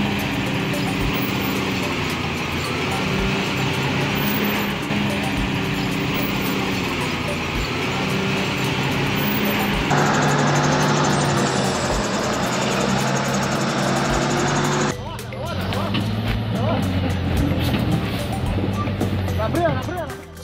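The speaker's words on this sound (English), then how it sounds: "a truck carrying two giant stones traverses a steep terrain" A heavy truck loaded with two giant stones grinds up steep terrain with a low, labouring engine drone, broken by abrupt cuts between scenes while a voice talks over it.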